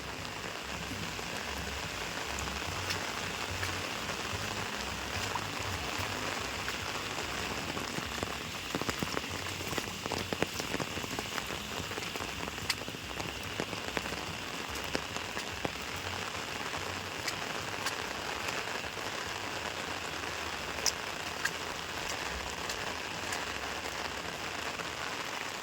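Steady rain pattering on surfaces around a house, a dense continuous hiss with scattered louder drips, moderate in level and free of voices.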